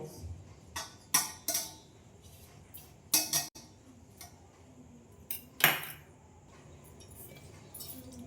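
A lid set down over resting dough in a home kitchen, producing a few light metallic clinks and taps scattered across the stretch, with one sharper clatter, all fairly quiet against a hushed room.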